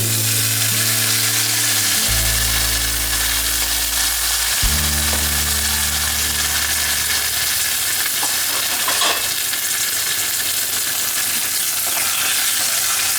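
Curry leaves crackling in hot oil for a murrel fish curry, a loud continuous sizzle and spatter that stays dense and close throughout, with a low hum running underneath.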